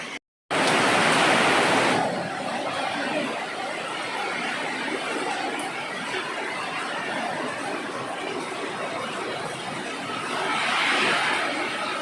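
Steady rain hissing loudly, a dense even patter that swells briefly at the start and again near the end.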